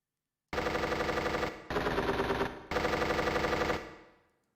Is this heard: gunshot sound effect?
yes